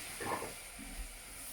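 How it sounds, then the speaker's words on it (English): Food for a jalfrezi hisses and sizzles in a pan just after a splash of water is added. The sizzle is faint and brief, with a short burst of steam early on. "Now I get the sizzle."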